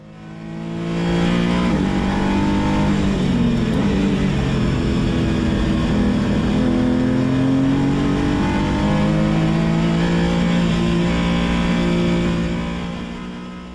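Race car accelerating hard at Spa Francorchamps, engine note climbing and shifting repeatedly through the gears, loud and continuous with a sustained rising roar.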